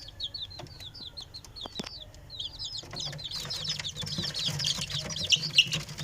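Seven young chicks resting in a coop after feeding peep in rapid, high repeated chirps close by, growing busier and denser toward the end, with faint background rustles and no talking.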